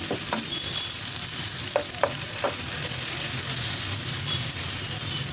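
Pieces of wood taro (kath kochu) fry lightly in oil in a pan, giving a steady, close sizzle with a few sharp clinks of stirring throughout.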